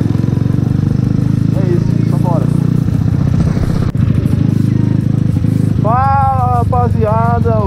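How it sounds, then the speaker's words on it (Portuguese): A Honda Titan 150 motorcycle engine droning steadily while riding between towns at night, loud and close, with wind noise and horn-like tones or voices toward the end. "O motorzão veio de boa, rapaziada, soprando."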